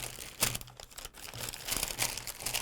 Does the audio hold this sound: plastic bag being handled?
yes